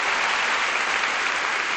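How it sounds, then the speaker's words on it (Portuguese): A church congregation applauds, producing a brief, loud and even wash of many hands clapping together without a break. "Você pode aplaudir ao Senhor por isso"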